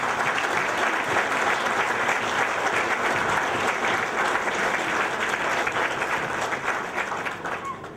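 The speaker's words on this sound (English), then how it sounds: "A very generous round of applause," A large audience at a restaurant opening in Sheffield bursts into sustained, dense applause that holds steady for several seconds, then begins to thin and fade toward the end.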